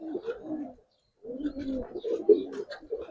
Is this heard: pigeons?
yes